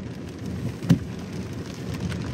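Steady rain patters in a soft, dense hiss on a 2023 Subaru Solterra electric car, with one brief louder knock partway through.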